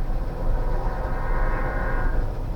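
A train rumbling past close by, a loud, steady low roar with a faint horn-like tone partway through.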